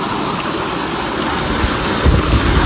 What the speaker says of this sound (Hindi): ये ट्यूबवेल चल रहा है